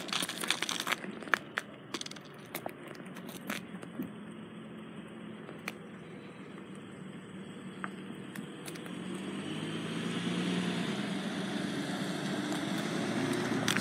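A car approaches a street crossing on slushy, lightly snowy roads, its tyre and engine noise swelling gradually from faint to nearer over several seconds, with scattered crunching footsteps early on.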